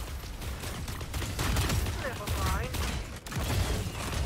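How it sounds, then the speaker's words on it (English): Gunfire in the mecha battle royale game Super Mecha Champions, fairly quiet bursts of shots mixed with mechanical clatter and game effects running steadily through the whole stretch. "Oh, crap. I'm getting shot at."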